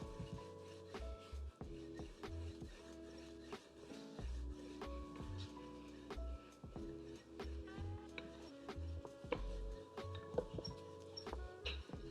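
A wooden rolling pin rolls out chicken pot pie crust dough in a kitchen, with repeated soft knocks, rubs and clicks in an uneven rhythm, close and fairly quiet.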